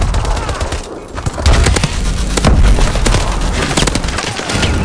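Call of Duty Advanced Warfare multiplayer Domination match with loud, dense automatic gunfire in rapid bursts and heavy booms, nearly continuous for several seconds and close up front.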